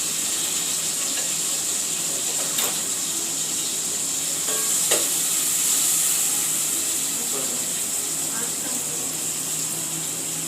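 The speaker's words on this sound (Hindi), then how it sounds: "उसके लिए प्याज तल रहे हैं।" Onions fry in a pan for spiced rice, giving a continuous, fairly quiet sizzle and hiss with a few faint clinks from stirring partway through.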